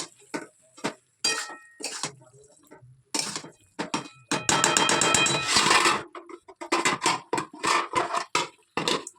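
A spoon scrapes and clinks against a cooking pan while green jackfruit curry is stirred and fried with salt and pepper. Irregular metallic taps and scraping strokes come close up, with brief gaps between them.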